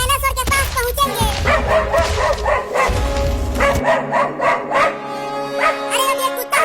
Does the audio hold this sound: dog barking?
yes